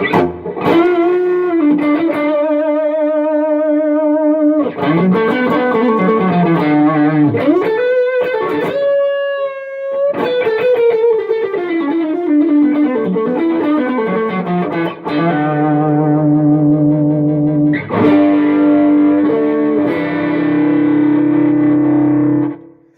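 Overdriven electric guitar through a Tube Screamer overdrive into a Line 6 POD 2, with a warm, gritty tone, playing chords and bluesy lead runs continuously and loudly, no voices.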